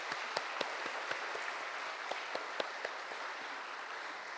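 Scattered clapping from a church congregation honoring an elderly member at a Sunday service, a modest round of separate claps with sharper individual hand strikes, moderately close and steady, no voices.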